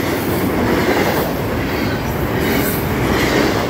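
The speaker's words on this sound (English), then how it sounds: "Got ourselves a metal locomotive." Long freight train with a DPU locomotive passing close by, a steady dense rumble of rolling cars with faint clickety-clack and light wheel squeal throughout.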